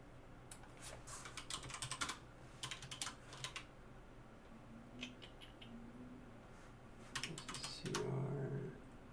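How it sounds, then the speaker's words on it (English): Fast bursts of typing on a computer keyboard come in several quick clusters with short pauses between, fairly close, with a brief low hum near the end and no speech. "I can actually type that in."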